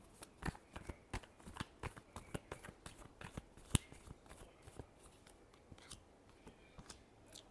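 Tarot cards are shuffled by hand in a quiet room, giving a long run of soft, rapid flicking riffles with one sharper snap midway.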